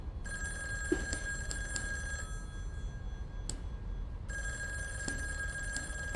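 A telephone bell rings in repeated bursts, a bright trilling ring that stops briefly and then starts again, fairly clear over a low steady background hum, with no talking.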